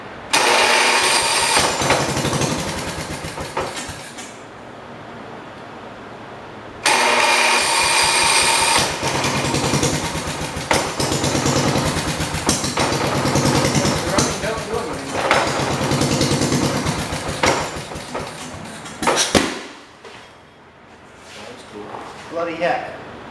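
A 1968 110 engine with a holed exhaust cranks and runs roughly, a loud steady mechanical rumble that drops out briefly and then resumes, cutting off near the end, with people talking over it.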